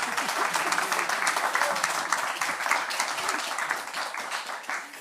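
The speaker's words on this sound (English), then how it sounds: "A little applause for Francesco, please." Audience members at a talk give Francesco a steady round of applause, a dense, even patter of many hands clapping throughout at moderate loudness.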